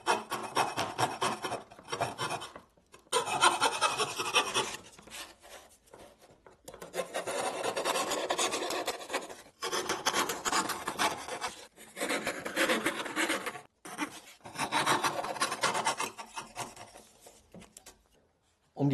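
Wood is hand-sawn along a contour, starting from a pre-drilled hole, while building a Christmas nativity crib. Close scratchy sawing strokes come in bursts of several seconds, separated by short pauses.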